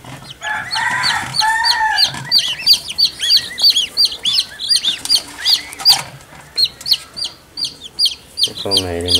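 Newly hatched chicks peep in rapid, high, repeated chirps close by, a steady loud stream of tiny calls, with a few lower clucks mixed in near the start and end.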